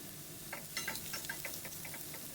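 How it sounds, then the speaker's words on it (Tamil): Onions frying in coconut oil in a pan give off faint, sparse crackles and tiny pops over a quiet, low background hiss. "ஆனியன் நல்லா ப்ரௌன் ஆகிறதால நல்லா ஃப்ரை பண்ணி விடலாம்"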